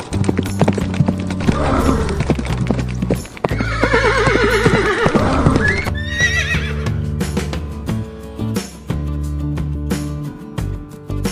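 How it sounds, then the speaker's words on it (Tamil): Horse in a cartoon horse-riding scene, loud hooves clip-clopping in a steady trot with drawn-out neighs and whinnies rising over the hoofbeats midway through. "இனியா, இந்த குதிரை சவாரி மாதிரி நான் இது வரைக்கும் எதுவுமே போனதில்லை."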